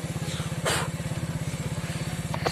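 A motorcycle engine revs hard in first gear on a village road, a loud, close, rapid pulsing throb that holds steady, with a brief voice over it.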